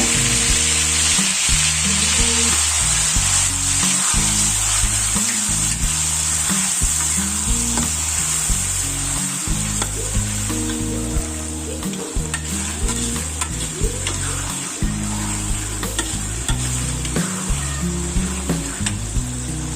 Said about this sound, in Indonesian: Kemudian panaskan minyak, kita mau goreng cabai merahnya ya.